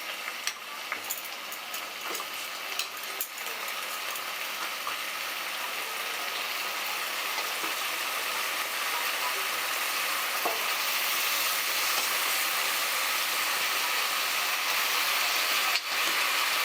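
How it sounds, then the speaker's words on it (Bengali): Boiled toor dal, potatoes and vegetables go into a hot pan and sizzle steadily, a soft continuous frying hiss with a few faint clinks and stirring scrapes, with no talk. "এবার আমি সিদ্ধ ডাল আলু সবজি সব দিয়ে দিচ্ছি।"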